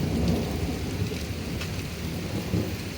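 Rain falls steadily while low thunder rumbles throughout, a dense, continuous storm sound with no voices.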